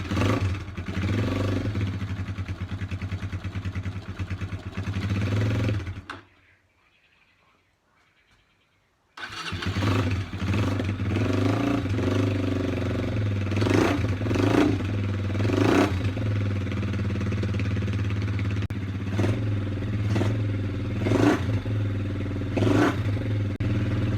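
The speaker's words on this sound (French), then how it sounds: "Allez, premier démarrage avec ce pot." A Honda XLR125R single-cylinder motorcycle fitted with a new exhaust starts up after a few seconds of near silence, then settles into a steady, loud idle with occasional revs close by.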